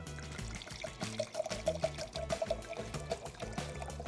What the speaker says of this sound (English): I'm gonna pour myself one too.